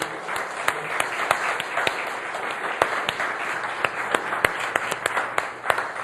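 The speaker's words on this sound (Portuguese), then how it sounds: "Vamos aplaudir a Deus pela vida dos pais mais uma vez." Church congregation claps and applauds continuously in a large room, dense steady clapping with some sharper individual claps standing out, no speech over it.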